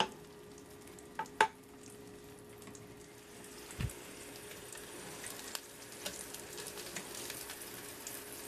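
An egg frying in leftover bacon grease gives a faint, steady sizzle, with a few soft clicks and knocks from the pan along the way and no voices.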